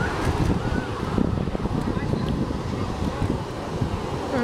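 Gusty wind buffets the microphone in a steady roar on a beach in Brazil in winter, with a faint wash of surf underneath.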